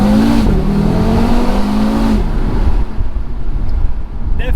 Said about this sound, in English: I've noticed you get a lot more turbo blow off noises with this OPF version.